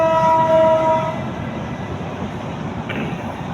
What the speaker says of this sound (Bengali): দেখুন ট্রেন আসতেছে। এই ট্রেনটা কিন্তু ঢাকা থেকে আসতেছে